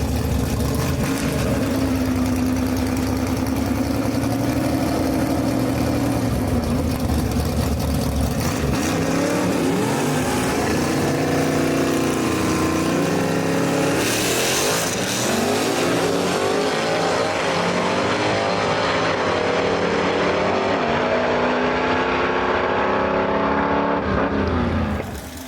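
At a Southeast Gassers drag race in Knoxville, a 1956 Pontiac wagon and an L79 Chevelle roar loudly off the line. Their engines rev hard and rise in pitch before fading as the cars pull away.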